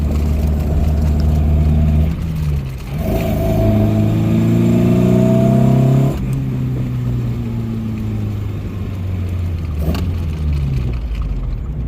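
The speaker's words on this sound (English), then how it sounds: "idle tuning is a little bit on the aggressive side, meaning that it idles a little bit high, but it came back down to idle" A Datsun roadster converted to E85 flex-fuel EFI idles loudly and close, with a steady engine drone that rises briefly to a higher idle, then settles back down with a few sharp ticks.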